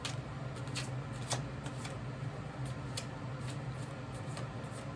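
Tarot cards shuffled in quick, soft riffles and taps, a faint rhythmic flutter of repeated card strokes close by in a quiet room.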